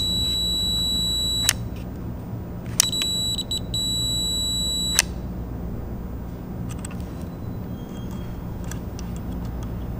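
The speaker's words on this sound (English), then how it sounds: "You can test audible continuity on each of the pairs of the switch." A multimeter gives several sharp, high continuity beeps, three main tones of about a second each in the first five seconds, over a steady background hum and with no talking.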